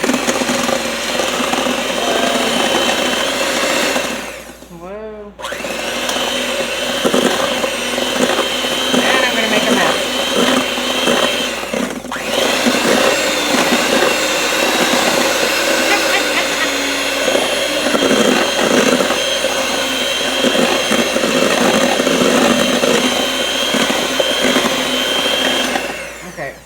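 A kitchen blender whirs continuously while blending scallions for keto twice-baked potato boats, loud and close with a brief break partway through; a person talks over the motor noise.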